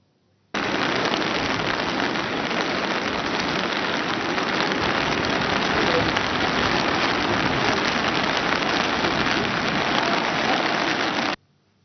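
Heavy monsoon rain in Washim, Maharashtra, pours down in a loud, dense, unbroken hiss that starts and stops abruptly.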